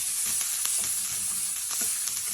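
Onion sizzling in hot oil in a pan while cooking chicken feet caldereta, a steady bright frying hiss with small crackles, close and continuous with no talk.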